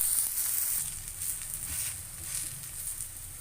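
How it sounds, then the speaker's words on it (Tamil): Ragi and drumstick-leaf adai frying in oil on a hot pan after being flipped, a soft, steady, close sizzle with faint crackle and no talk. "இந்த பக்கம் திருப்பி போட்டு கொஞ்சம் எண்ணெய் ஊற்றிக்கிறேன்."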